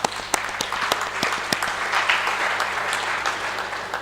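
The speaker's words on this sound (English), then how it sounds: "So can we please give them a round of applause" In the ECOWAS Parliament chamber, a plenary audience applauds: a few sharp, distinct claps at first, then fuller, sustained clapping that continues steadily.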